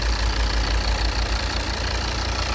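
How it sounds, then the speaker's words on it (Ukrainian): A five-cylinder diesel engine in a Volvo V60 D3 idles steadily up close, a low rhythmic clatter and rumble with no voices. "Так гарно шепоче двигун. П'ятициліндровий, ще раз нагадую."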